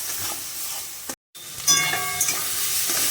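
Chicken mince cooking down with ground spices such as coriander powder in a pan gives a steady close sizzle and hiss, briefly cut to silence, then resuming with scraping stirs.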